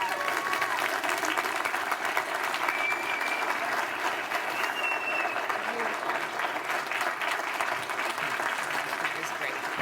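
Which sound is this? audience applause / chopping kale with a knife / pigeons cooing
audience applause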